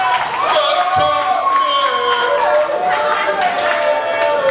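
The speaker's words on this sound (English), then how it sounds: "Big round of applause." Comedy roast audience cheering and whooping, a loud mixed crowd roar sustained for several seconds with a voice shouting over it.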